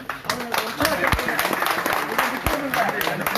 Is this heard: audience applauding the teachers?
yes